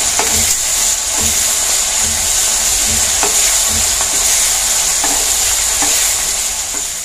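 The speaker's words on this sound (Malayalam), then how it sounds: "നമ്മുടെ വെളുത്തുള്ളി ഇവിടെ മൂത്ത് വന്നിട്ടുണ്ട്" Garlic fries in hot oil for a red chilli and dates pickle, a loud, close, steady sizzle with periodic stirring knocks and scrapes against the pan throughout, no voices.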